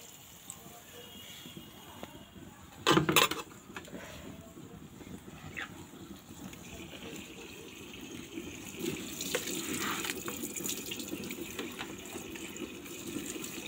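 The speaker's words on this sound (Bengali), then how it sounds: "এই যে এখন এখানে পানি দিয়ে দিলাম" Water pours into a cooking pot on a clay stove while mashed moringa leaves are being prepared, a steady gushing flow running under the scene, with a brief louder splash near the start and a rising rush toward the end.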